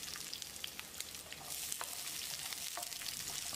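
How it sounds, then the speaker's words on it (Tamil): A cup of small onions, about 120 grams, frying in half a tablespoon of oil in a pan over medium heat: a steady, close crackling sizzle with light stirring and no talk. "அளவான தீயிலேயே இந்த வெங்காயத்தை செவந்து வர்ற அளவுக்கு வதக்கிடலாம்"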